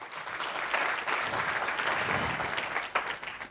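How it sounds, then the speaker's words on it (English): Steady applause from a conference audience at an international pharmacy research conference, dense even clapping filling the room for several seconds without a break. "Let's give a hearty clap."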